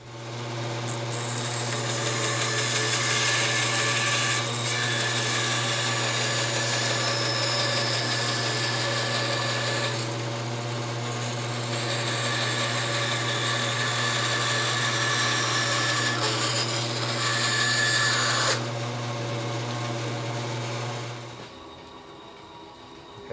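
A power tool hums steadily at close range while a wooden dory frame is cut square in a boat-building shop, the sustained whine running for about twenty seconds before stopping.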